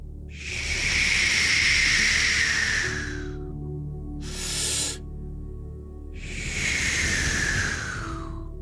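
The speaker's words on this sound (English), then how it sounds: "It's actually a longer exhale and a shorter inhale." Slow relaxation breathing up close: two long, airy exhales of about three seconds each, separated by a much shorter, sharper inhale, with no talking.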